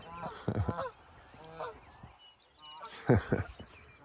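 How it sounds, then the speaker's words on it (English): Geese honk repeatedly overhead in spring in two bursts, a loud, nasal chorus of calls passing close by against light outdoor background noise. "we have some geese about to fly over here"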